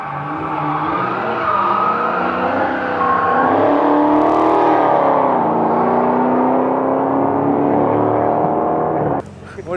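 A Hellcat car's engine revs loud and close with rising and falling pitch, holding a continuous roar, and cuts off abruptly near the end.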